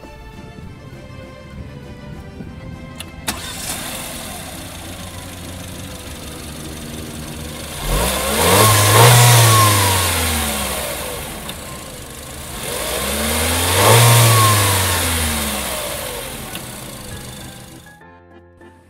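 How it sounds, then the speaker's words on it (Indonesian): Peugeot 3008 SUV engine starts, then idles and is revved twice, each rev swelling and falling back to a steady idle, loud and close, with a brief spoken word near the start. "foot on the brake, kita dengar suara mesinnya dulu"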